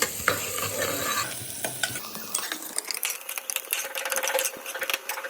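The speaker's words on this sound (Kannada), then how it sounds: "ಸ್ವಲ್ಪ ಎಣ್ಣೆ ಫ್ರೈ ಮಾಡ್ಕೊ ಫ್ರೈ ಆಗೋವರೆಗೂ ಎಣ್ಣೆ ಫ್ರೈ ಆಗೋವರೆಗೂ ಬಾಡಿಸ್ಕೊಳ್ಬೇಕು" A spoon stirs and scrapes through oil frying in a pan while making chicken sambar: close, busy sizzling with quick scraping strokes and a few light clinks, and no talking.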